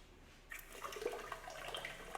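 Water running into a Beermax brewing kettle as it is filled with 30 litres for the mash, a steady splashing pour that starts after a quiet half second and continues at moderate level.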